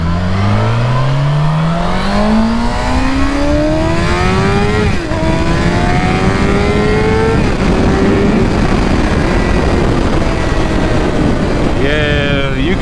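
A Suzuki GSX-R750 sport motorcycle engine, loud and close, revs up through rising gears with steady high-pitched whine, shifting and pulling hard throughout, with wind roar underneath.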